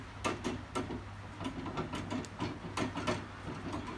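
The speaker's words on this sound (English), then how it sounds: "Vintage Singer sewing machine." A vintage Singer sewing machine runs with a steady, rapid clatter of light mechanical ticks and knocks. It is close and continuous, with no voices.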